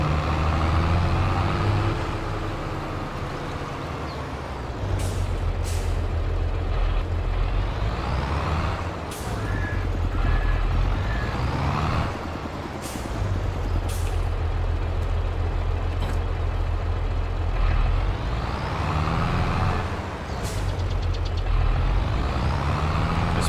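A tractor engine in the Farming Simulator 22 video game runs with a continuous low, heavy rumble and steady drone, joined by brief sharp hissing bursts at intervals and no talking.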